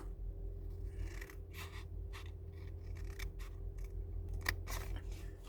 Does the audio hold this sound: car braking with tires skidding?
no